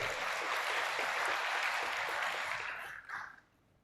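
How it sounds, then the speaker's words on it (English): Steady round of audience applause at the Dheeksharambham 2023 event, dense and even, tapering off over the last second with a few final claps. "A big round of applause for them."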